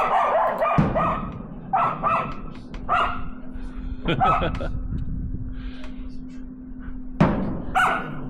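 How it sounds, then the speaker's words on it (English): A dog barks repeatedly in short, sharp bursts at close range during winter in Two Harbors, Minnesota, with people talking in between and a steady hum underneath. "with a barking dog and an impatient cook"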